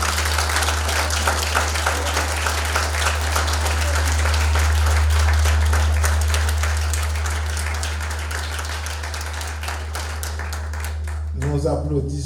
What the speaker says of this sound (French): je vous demande d'applaudir les finissants de flèche